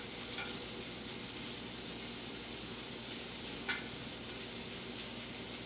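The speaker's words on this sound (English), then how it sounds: "we're just going to sprinkle some bacon in here to get it heating" Bacon sprinkled into a hot pan sizzles in a steady, dense hiss that holds at an even level throughout, close up with no speech.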